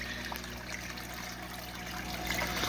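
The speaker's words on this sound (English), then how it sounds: "I got the water flowing down through the log." Water trickles steadily down through a hollow log into an indoor koi pond, a continuous close, even dribbling and splashing with no voices.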